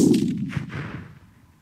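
Rifle shot from a Savage .243 Winchester fired at a milk jug target 1200 yards away: one sharp, loud crack at the start, followed by a long rolling echo that fades over about a second and a half.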